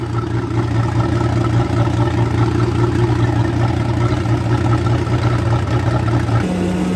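A 1991 Mercruiser 4.3 V6 sterndrive boat engine runs at a steady, loud idle with a low even hum and rhythmic chug throughout, the pitch shifting slightly near the end.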